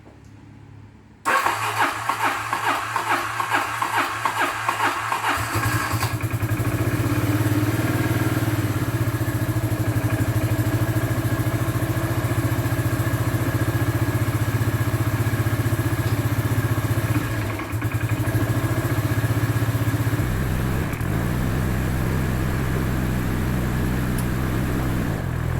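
An ATV engine fitted with a new carburetor cranks over with a few rapid pulses, catches, and settles into a steady, loud idle that runs on continuously, with a brief dip near the end.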